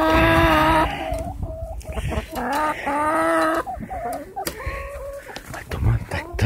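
Chickens clucking in a small backyard coop in winter, a steady chorus of close clucks and drawn-out calls, with a person talking over them.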